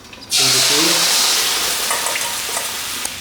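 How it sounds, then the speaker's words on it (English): Sweet and sour sauce hits a hot pan and is stirred, a sudden loud sizzle that settles into a steady hiss with light scraping and clinks. "let's heat up our sweet and sour sauce over here. Just give me a good mix."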